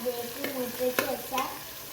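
Tomatoes sauté in oil with mustard seeds and curry leaves as the base for beef curry. A soft sizzle is broken by a few stirring scrapes, with a faint steady tonal hum underneath.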